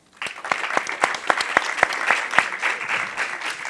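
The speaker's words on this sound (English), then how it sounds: "Join me to give a big applause to our panelists." An audience at a forum panel session breaks into warm applause for the panelists, a dense burst of clapping with a few louder claps standing out, heard up close and without talk.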